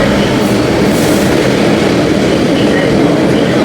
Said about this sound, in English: The train to Central is arriving.